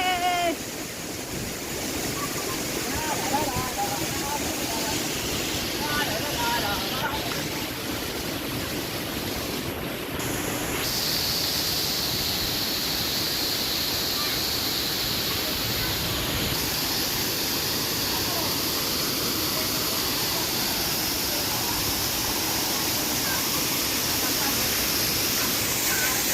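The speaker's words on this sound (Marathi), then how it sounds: "चला आता आपण जाऊया छोट्या धबधब्यावर" Small waterfall at Talavade, Devgad in rainy Konkan, its water rushing in a steady broad roar throughout, with occasional faint voices nearby.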